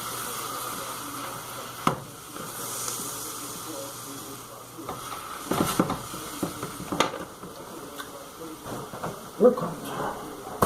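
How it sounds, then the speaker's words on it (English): Meatloaf sizzles and hisses steadily in a hot pan, a low continuous fry broken by occasional clatters and knocks of utensils, with a voice speaking now and then over it. "I gotta keep storing my meatloaf that I'm sauteing over here"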